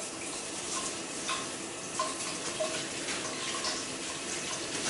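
Tap water runs steadily during a 20-second hand wash at a sink, a continuous broadband hiss with a few faint splashes and drips, fairly close and with no one talking.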